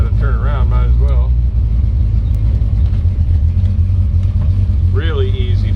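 A 1928 Ford Model A roadster pickup street rod rumbles with a loud, steady low engine drone from close by as it accelerates, while someone talks over it.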